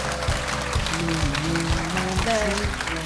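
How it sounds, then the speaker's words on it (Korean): Audience applause at a televised Korean lecture by an explorer, a continuous clapping wash beneath a musical tone and low rhythmic thuds. "큰 박수 부탁드립니다"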